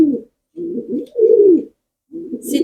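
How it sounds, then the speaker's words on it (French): Pigeon cooing close by, several low, throaty rolling coos in short phrases separated by brief silences, with no talk over them. "Si tu ne supportes pas les pigeons, oui, c'est un pigeon."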